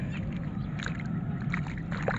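Floodwater sloshes and splashes continuously under a low rumble, with scattered small splashes nearby.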